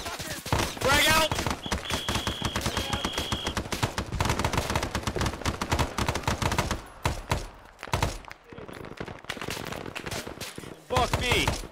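Sustained .30 cal machine gun bursts in the Arma 3 Vietnam-era battle at LZ X-Ray crackle loudly and nearly nonstop, layered with other gunfire and explosions, with brief gaps near the end.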